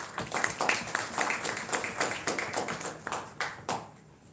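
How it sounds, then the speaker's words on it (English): Award ceremony crowd at a film festival applauding the winners, a brisk run of hand claps with distinct individual claps, moderately close, tapering off at the end. "So please give them a round of applause."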